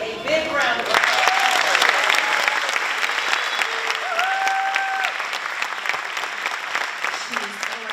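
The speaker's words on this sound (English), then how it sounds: "a big round of applause" Steady applause from a crowd, dense clapping that continues for several seconds with a few voices and cheers mixed in.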